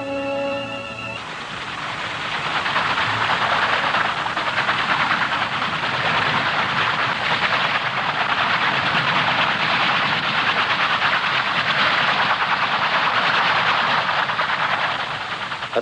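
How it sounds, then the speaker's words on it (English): Fairey Rotodyne compound gyroplane cruising in forward flight, a loud continuous engine and rotor roar with steady broadband rumble throughout. "the Rotodyne translates into forward flight and heads for Brussels, cruising at 200 miles an hour"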